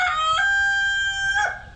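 A rooster crows once, close and loud, a single sustained cock-a-doodle-doo with a rising start and falling finish.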